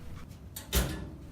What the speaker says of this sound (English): Collect your parcel and shut the door.